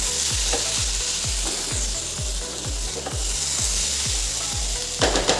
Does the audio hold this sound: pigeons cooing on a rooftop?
no